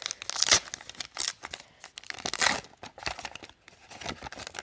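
A 1990-91 Upper Deck hockey card foil pack is torn open with loud, close crinkling and ripping bursts, several sharp tears among rustling, and no voices.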